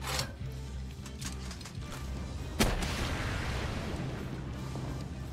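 A single sharp gunshot-like blast goes off in the video game Palworld against a steady mechanical clatter and low rumble, followed by continuous noisy background.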